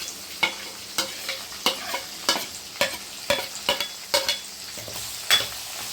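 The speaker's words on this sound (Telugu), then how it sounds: "ఇందులో మనం ఉల్లిపాయలు వెల్లుల్లి ఈ రెండింటిని కలిపి వేపేద్దాం" Chopped onions and garlic fry in hot oil in a pan over tempering, a soft steady sizzle broken by repeated sharp scrapes and clinks of a spoon stirring, quiet and close with no talking.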